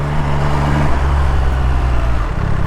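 An MV Agusta Rivale 800 motorcycle engine running at low revs, a steady, loud, slightly rough low rumble with a small shift in tone partway through, heard close with no talk.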